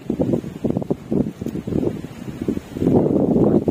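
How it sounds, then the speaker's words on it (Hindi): Wind gusts in the mountains of an Uttarakhand village, buffeting the microphone in low, rumbling bursts that come and go before building into a stronger, steady blast at the end. "उस टाइम पे सीधे हवा चलना स्टार्ट हो रही है"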